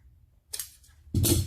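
Two quick snips of scissors cutting through upholstery fabric for a motorcycle seat, close and crisp, the second louder, in an otherwise quiet room.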